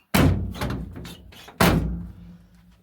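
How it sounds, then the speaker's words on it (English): Two solid car door thunks about a second and a half apart, close and loud, the second shut heavier with a short ringing tail. "close this door. This one doesn't quite close as well, but it does close."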